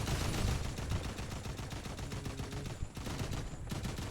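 Rapid bursts of gunfire from the video game Fortnite, dense and loud throughout with sustained automatic fire and a brief dip near the end.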